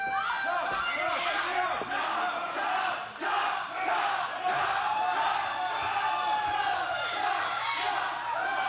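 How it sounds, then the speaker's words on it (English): A wrestling crowd at an independent show chants and roars steadily, with rhythmic shouted beats over a constant dense crowd din. It sounds moderately distant. "The crowd chanting, Morgan's going to kill you"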